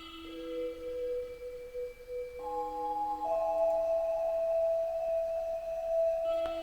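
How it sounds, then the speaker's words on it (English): Sustained synth pad tones built on a whole-tone scale step upward and layer over each other, the chord slowly spreading and thickening as new notes enter, soft and smooth with no talking. "this spreading synth that gradually comes in"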